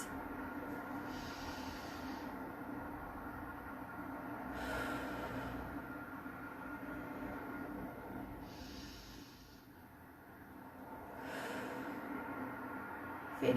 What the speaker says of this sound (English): we will just take 5 deep conscious breaths